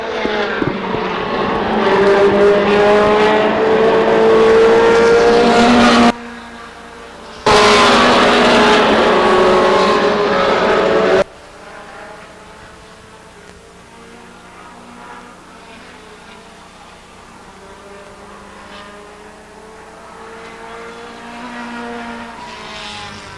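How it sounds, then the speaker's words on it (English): Racing trucks roar around Stockton 99 Speedway in a 2002 event, their loud engine noise sweeping past close by with a brief dip, then settling into a fainter, distant drone. "That truck is awfully fast."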